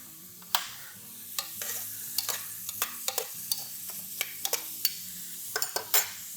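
Onions and carrots sautéing in a pan, a soft continuous sizzle punctuated by frequent sharp clicks and scrapes of a utensil stirring against the pan, close up with no talking.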